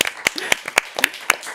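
Brief applause for three studio guests at a digital transformation forum, a handful of sharp claps spaced out over a second and a half, sparse and thin rather than a full ovation.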